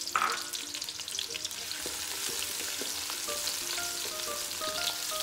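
Onions frying in a large spoonful of ghee with turmeric and spices, a steady loud sizzle running throughout with occasional light stirring clinks and scrapes, close and continuous with no talking.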